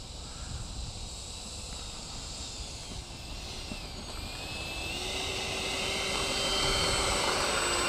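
A Hobbyking Tornado 75 RC jet on 6S power taxis on the ground, its electric ducted fan giving a steady whining hiss that grows gradually louder as it approaches, with no talking.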